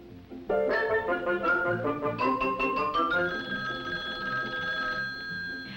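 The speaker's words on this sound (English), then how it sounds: "a kitchen phone at hand when friends call up to chat a bit." An old-fashioned kitchen telephone bell rings in rapid repeated trills, clear and fairly loud, followed by a steady sustained ringing tone with no talking.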